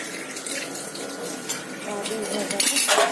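Puja items being washed under a running tap, water splashing steadily with clinks of metal utensils, close and fairly loud.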